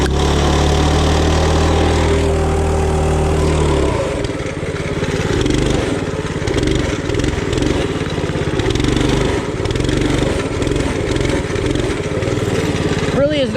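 A modified mini bike engine runs in muddy conditions, a loud, close, buzzing small motor that idles steadily at first, then revs and bogs in uneven pulses.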